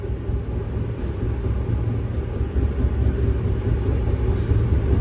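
The Bangalore to Chennai Double Decker Express runs along the track with a steady, heavy low rumble and rolling roar, constant and loud throughout as if heard from inside the moving train.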